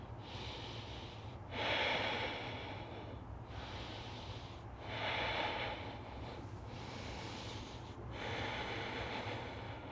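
Slow, audible yoga breathing held in a bridge pose: three long, hissing inhale-exhale cycles, close and fairly soft, with no talking.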